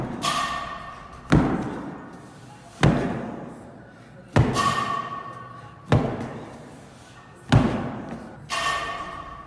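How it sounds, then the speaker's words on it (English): Heavy battle rope slams followed by medicine ball slams during a high-intensity workout circuit, six loud thumping impacts spaced about one and a half seconds apart, each with a short ringing decay in a reverberant gym. "Cameron Alves performing rope slams and going right into medicine ball slams"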